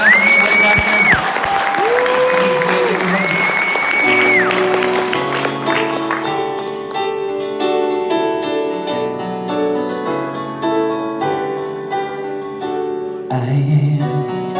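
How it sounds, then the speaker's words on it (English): Loud, sustained applause fills a church concert audience, steady clapping for the first several seconds before music with piano and singing rises and takes over. "Can you just give them a big round of applause?"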